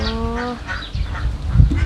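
Egg-laying ducks on a duck farm give a burst of close, loud, nasal calls, followed by scattered lower quacks and muffled farm noise, with no talking.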